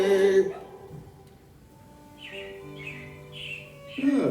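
Recorded robin chirps from the Carousel of Progress animatronic show at Walt Disney World play as a few short, bright, repeated tweets in the middle, over a faint background hum, between bursts of show music.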